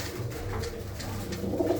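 Female pigeons coo together in a low, soft, continuous murmur, several birds overlapping with no pause and no voices over them.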